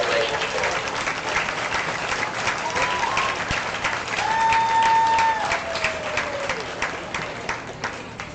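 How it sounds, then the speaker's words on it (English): A crowd applauds steadily at a 4-H swine show in Clay County, the clapping dense and sustained for several seconds while a faint voice or tone rises briefly over it midway. "They deserve just a big round of applause."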